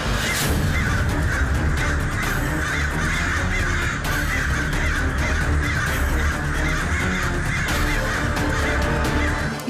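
A flock of crows caws loudly and continuously, many harsh overlapping calls forming a dense, unbroken clamor close by.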